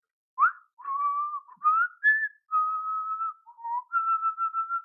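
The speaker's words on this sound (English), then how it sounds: "Is this whistling happening?" A person whistles a wandering tune in clear close notes, some held and some gliding, during a tabletop fantasy role-playing game session, heard alone without talk.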